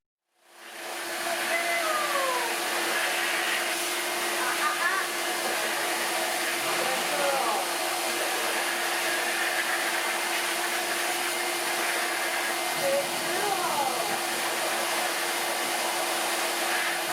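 Pet dryer blowing a steady, loud rush of air on a Yorkie during grooming, starting abruptly and holding a constant whooshing hum throughout.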